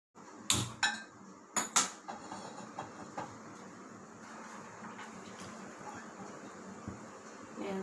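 Raw peanuts and curry leaves dry-roast in a pan without oil: a few sharp metallic clinks and scrapes of stirring near the start, then soft, faint rattling and shuffling in the pan.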